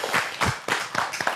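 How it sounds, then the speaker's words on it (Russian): Studio applause on a Gomel evening television program, a short burst of several loud, close hand claps in uneven rhythm. "Аплодисменты для вас."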